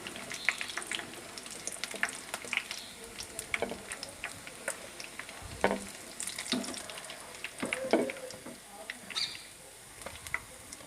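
Chapli kababs fry in oil in a pan on a low flame, a soft, steady sizzle with scattered small pops and crackles, close but quiet throughout.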